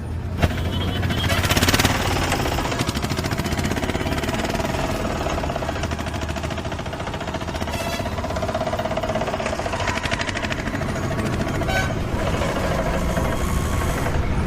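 Auto rickshaw engine running at night, a steady loud mechanical rattle and knock that persists throughout without pause, no talk over it.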